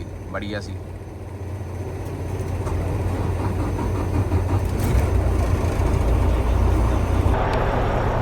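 A cold Volvo truck engine runs after standing overnight in snowy weather, giving a dense, continuous rumble that swells slightly over time, with a brief voice near the start.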